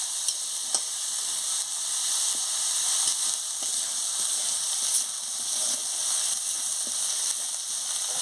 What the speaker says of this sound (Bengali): এবারে রসুনের বাটা দিয়ে দিচ্ছি, ভালো করে ভেজে নিই রসুনটা আর লঙ্কাটা